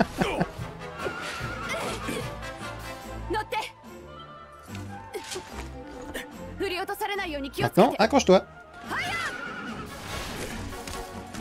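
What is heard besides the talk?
horse neighing in Dragon Quest XI video game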